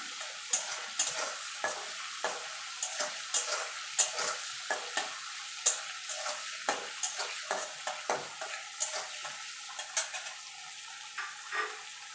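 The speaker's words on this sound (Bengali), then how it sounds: "দেখুন বন্ধুরা, ছোলাটা ভাজা ভাজা হয়ে গেছে।" Chickpeas frying in a pan for a papaya curry, with a spoon stirring and scraping in quick irregular strokes over a steady close sizzle, no voices.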